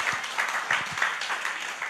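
A church congregation applauding during a sermon, a short stretch of light, scattered clapping that sounds thin and unenthusiastic.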